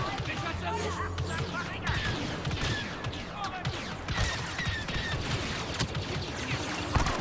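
Rapid blaster fire and impacts in the Star Wars Battlefront II campaign, a dense, busy barrage of shots and crashes mixed under excited talking voices.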